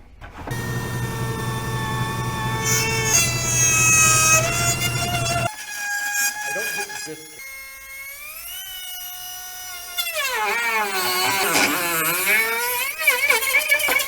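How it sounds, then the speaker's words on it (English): A Dremel rotary tool whines loudly as it cuts and grinds plastic on a Ghostbusters proton pack, a high-pitched motor tone that sweeps in pitch as the bit bites and eases off, with no talking. "Here's where we need a Dremel."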